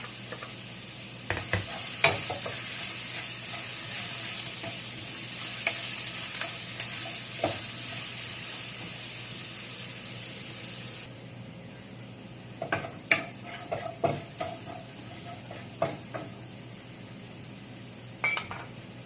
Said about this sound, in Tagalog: ilagay na natin yung garlic. Ipapry din natin ng golden brown